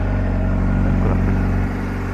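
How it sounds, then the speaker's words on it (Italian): A 2024 Honda CBR600RR on its original exhaust idles close by with a deep, steady rumble that swells slightly before settling lower, loud and with no talking. "E anche di sound lo scarico originale, e devo dire che è davvero buono."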